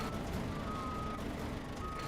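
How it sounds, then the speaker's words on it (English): Reversing beeps from a logging truck in Snowrunner, a steady repeating electronic tone over a rumbling engine, close and moderately loud. "Sorry about the beeping. I realized I was in reverse that whole time."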